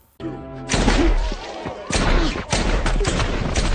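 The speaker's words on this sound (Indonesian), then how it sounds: "Deadpool yang tidak tahan lagi dengan apa yang terjadi ini pun langsung menembak salah satu pengawas tersebut." Gunfire rings out in a Deadpool action movie scene, several loud, close, sharp shots with crashing impacts and echoing tails, coming in quick bursts over a few seconds.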